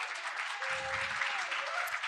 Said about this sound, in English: Keep the applause going for Natalie, sitting right here.